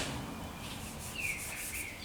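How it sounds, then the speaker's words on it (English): Hand sanding of body filler on a 1995 Vert quarter panel with 320-grit sandpaper, a steady close scraping rub that continues without pause and without talk. "we'll probably finish our little filler sanding right up"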